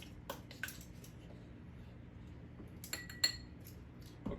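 Metal measuring spoon clinking lightly against a container while half a teaspoon of cinnamon is added for gluten-free, dairy-free persimmon doughnuts; a few faint, brief clinks at quiet close range.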